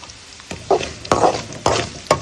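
Garlic sizzles in a pan over medium flame, with a few loud stirring scrapes at regular intervals above the steady frying crackle.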